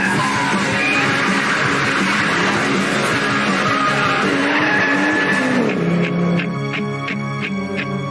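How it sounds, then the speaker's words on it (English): Tyres of a Ford F6 or Club Sport Aussie muscle car screech and squeal loudly in a sustained burnout at traffic lights, engine roaring beneath before the noise drops to a pulsing rev. "Our first test is a classic Aussie tradition, a burn off at the traffic lights"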